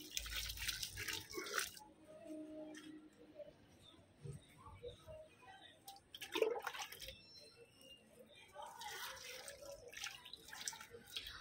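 Water poured from a container onto potted hibiscus and rose plants, soft splashes and trickles in uneven bursts with quiet drips between, close and fairly gentle.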